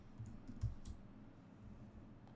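A computer keyboard is typed on briefly, a few soft separate keystrokes and clicks, quiet and close, with no voice.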